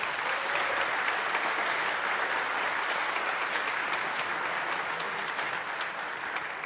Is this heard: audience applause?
yes